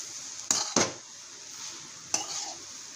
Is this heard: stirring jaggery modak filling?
yes